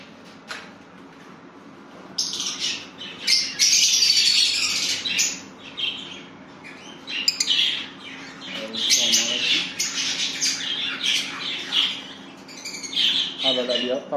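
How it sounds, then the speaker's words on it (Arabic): Lovebirds in a breeding setup squawk and chirp loudly and close by, in busy overlapping bursts, while someone talks over them. "هنا عندنا طيور الحب"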